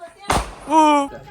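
A Diwali firecracker bursts once with a sharp, loud, close bang, followed by a short voiced sound.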